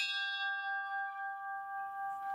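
An old church bell cast in 1773 is struck once, ringing out with a bright, sustained metallic tone that slowly fades away, close and alone.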